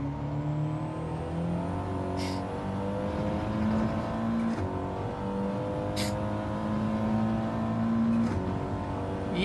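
Audi race car engine in Gran Turismo 7 on a TT track, droning steadily throughout with rising and falling revs and short high whines at gear shifts, no talk over it.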